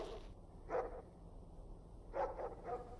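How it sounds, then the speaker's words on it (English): Dogs in the S.T.A.L.K.E.R. Anomaly game wilderness bark in a few short bursts, one single bark then a cluster of two or three, somewhat distant over a low ambient rumble. "Dog pack's fighting something over there."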